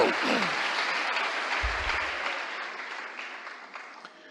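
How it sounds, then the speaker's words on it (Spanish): Congregation clapping hands together during a Spanish-language evangelical church service, a loud sustained burst of applause that gradually fades, with a brief low thump near the middle. "Dámosle unas palmas al Señor."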